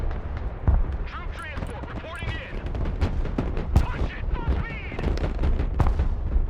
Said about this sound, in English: they are popping that artillery